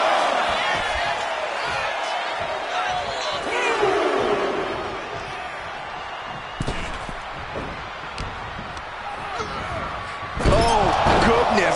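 Body slam into the turnbuckle corner in a wrestling video game, several heavy impacts thudding over crowd noise and cheers while a commentator talks throughout, with a loud hit near the end.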